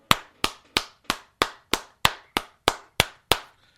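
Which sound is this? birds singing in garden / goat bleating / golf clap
golf clap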